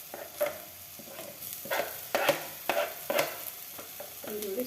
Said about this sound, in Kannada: ಸಣ್ಣ ಹೆಚ್ಚಿಟ್ಕೊಂಡಿರೋಂಥ ಒಂದು ಈರುಳ್ಳಿ ಹಾಕ್ತಾಯಿದ್ದೀನಿ ಇವಾಗ